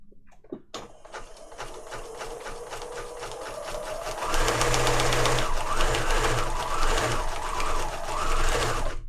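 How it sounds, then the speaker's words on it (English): A sewing machine stitches through paper for a junk journal lapbook: a steady mechanical rattle that grows louder and denser partway through, running alone without talk. "sewing on paper"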